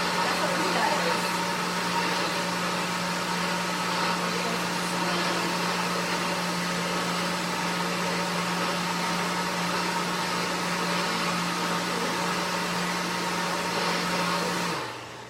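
A blender purees hot butternut squash soup with a steady, loud motor whir that holds a constant pitch for about fifteen seconds, then cuts off at the end.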